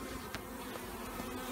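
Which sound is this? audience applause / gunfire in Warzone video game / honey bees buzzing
honey bees buzzing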